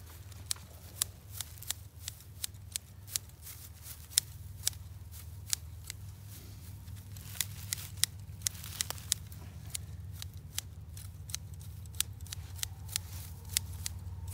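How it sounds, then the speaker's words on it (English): Rapid, steady snipping of scissors cutting grass at a predator trap hay set, many crisp close clicks over a low background rumble. "Notice the use of the scissors."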